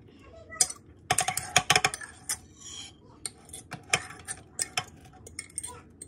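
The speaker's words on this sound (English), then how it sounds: "I know people don't like the sound of like utensils hitting a plate" A fork and other utensils clatter against a plate while someone cooks crockpot chicken pot pie, making rapid bursts of close, bright clinks and taps, then sparser scattered knocks.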